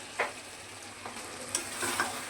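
Mutton curry simmering over a low flame sizzles steadily as bowl-rinse water is splashed in, with a few brief, soft bursts of spatter and stirring over a constant hiss.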